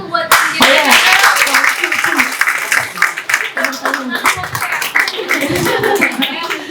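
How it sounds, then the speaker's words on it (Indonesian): Clapping at a HackHERthon Independence Day demo day event, a close, loud run of hand claps mixed with lively talk and light laughter from the crowd throughout. "tepuk tangan untuk tim Generation Girl dan tim SAP gitu"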